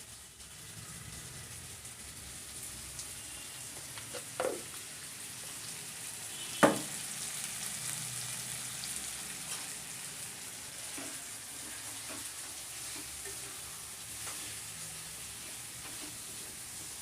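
Chicken curry frying in a pan, a steady soft sizzle with a few louder clinks and scrapes of stirring, quiet and close with no talking.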